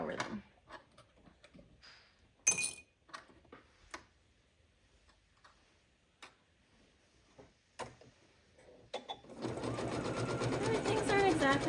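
A sewing machine stitches over nested shoulder seams in knit fabric, starting with scattered clicks and taps, then running in a steady close whirr at the end.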